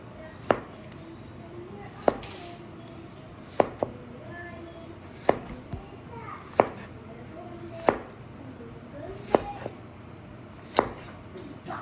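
Boiled pork for Korean pork rice soup sliced on a cutting board: about nine sharp, evenly spaced knife chops close by, with a faint voice in between.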